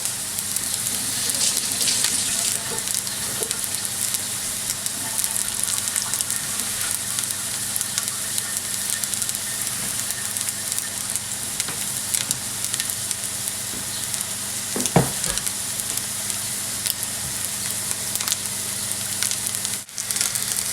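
Spirulina patties sizzle and fry steadily in a hot pan, a dense continuous crackling hiss with occasional louder pops and a brief scrape near the end.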